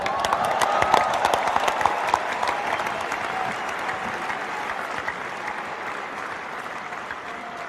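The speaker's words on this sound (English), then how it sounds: "Before you start clapping" A large stadium crowd applauds at a cricket farewell, with dense, sustained clapping that starts loud and gradually eases over several seconds and no talking.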